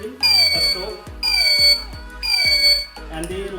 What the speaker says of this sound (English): So whenever I put my helmet on the head, then this beep will stop.